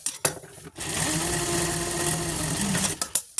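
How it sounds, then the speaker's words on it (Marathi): Sewing machine stitching straight rows on blouse-piece fabric to make a purse: a steady, close mechanical whir running for about two seconds between brief stops and clicks. "आपण ते चारी बाजूने सरळ सरळ मारून घ्यायचं आडव्या शिलाई छान मारून घ्यायच्या"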